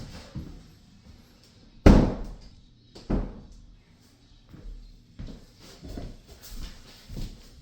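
An interior door with no stopper bangs loudly once, then knocks again more softly as it swings, followed by a few faint thuds and rattles nearby.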